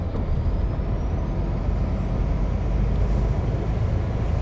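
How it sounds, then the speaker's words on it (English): A tanker truck rolls along with a steady, loud low rumble and road noise as its air brakes are applied, the braking blending into a continuous close drone with no talk. "Braking, going right"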